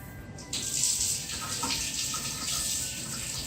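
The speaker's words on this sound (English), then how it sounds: "before we start making any food, we have to wash our hands" A kitchen tap runs steadily for hand washing before baking cookies, a continuous close hiss of flowing water that starts abruptly and keeps going without speech.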